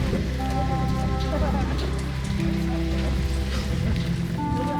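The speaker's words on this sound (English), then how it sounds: "It is hailing currently." Hail falls steadily on the Pacific Crest Trail, a dense continuous patter of hard pellets on surfaces, with what may be muffled voices underneath.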